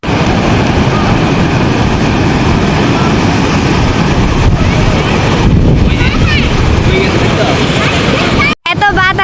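Strong, continuous wind buffets the microphone at the seaside on a rainy day, a loud roaring gust noise that persists throughout, with people talking under it.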